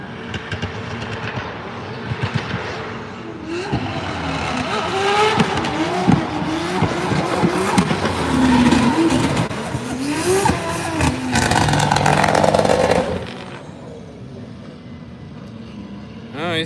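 A drift car makes a practice run at Drift Masters Finland, its engine rising and falling in loud revving sweeps with tire noise, while crowd chatter and voices carry under it.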